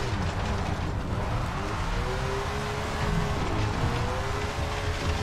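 Race car engine in SRX: The Game, a high-horsepower car with little grip at Elm Creek, droning steadily with a rising and falling tonal whine throughout, loud and continuous with no talk.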